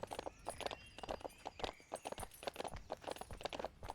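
A horse's hooves clip-clop at a steady trot while being ridden around a ranch in the video game Rivershine, rapid close rhythmic hoofbeats carrying on throughout with faint background noise.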